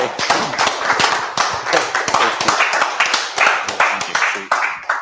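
A meetup audience at a tech talk gives a round of applause, dense close clapping that carries steadily throughout the clip with a few voices mixed in.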